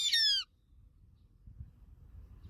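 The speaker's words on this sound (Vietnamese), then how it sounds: "Chim hót này các bạn." A bird gives one loud, high, harmonic call lasting under half a second at the very start, then falls silent over a faint low rumble of background noise.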